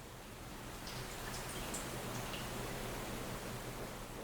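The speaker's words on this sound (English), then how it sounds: "As the rain continues to fall" A soft, steady hiss of rain falls continuously, with scattered faint drips, at low volume and with no voices.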